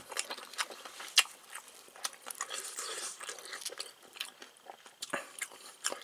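Close, crisp crunching as someone bites into and chews a pan-fried shrimp and seafood dumpling with a crispy skin, a series of quiet irregular crackles with soft pauses between them.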